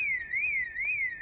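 Project Zomboid alarm wailing in a steady rising-and-falling electronic tone, repeating about every half second, loud and continuous with no talk over it.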